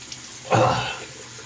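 Brief splash of water from a tap used to wet the face before shaving, a single soft burst lasting under a second in a quiet room.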